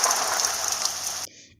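Storm sound effect of rain falling in a French-language school dialogue lesson about an approaching storm: a steady, soft hiss of rain that cuts off abruptly near the end, with no talking.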